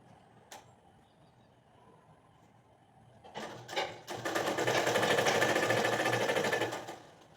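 A sewing machine runs in bursts, with a couple of short stitching runs and then a sustained fast whirring chatter for about three seconds before it stops. It is close and fairly loud over a quiet room.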